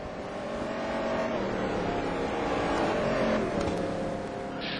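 A race car in a racing game pulls out of the pit lane at Donington, its engine droning steadily and loud throughout with a brief rise near the end.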